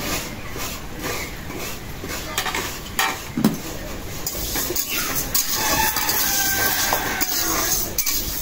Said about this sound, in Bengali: ডাল ভাজা হয়ে গেছে, নামাই দিই